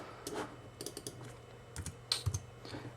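Computer keyboard keys tapped in short irregular bursts of typing, close and fairly quiet, with no talk over them.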